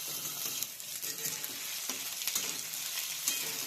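Potatoes are roasted in a pan with a soft, continuous sizzle, punctuated by light scraping stirs at an uneven pace, close but fairly quiet.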